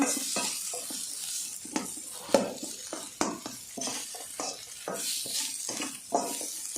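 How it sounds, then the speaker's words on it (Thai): Black pepper is stir-fried in a pan for a vegetarian baked glass-noodle dish: rhythmic spatula scrapes and clacks recur every half second or so over a faint sizzle, with no talking. "พริกไทยดำนะคะหอมดีนะ ผัดให้หอมค่ะผัดให้หอม"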